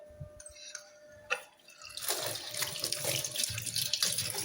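A kitchen tap running over vegetables and fruit being washed in a sink. Some light handling and clunks come first, then the water starts and splashes steadily and fairly close for the rest of the clip.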